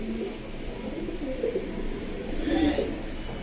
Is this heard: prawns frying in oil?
no